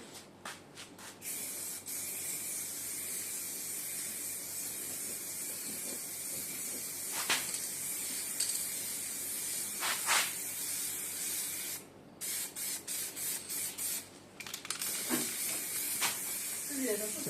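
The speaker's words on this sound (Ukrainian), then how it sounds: "Тепер можна лакувати. Балончик розмішаний." An aerosol spray can laying lacquer over a freshly painted and sanded surface gives a steady, close hiss in long continuous bursts, broken by a few short pauses and choppy on-off sprays, with faint knocks and movement.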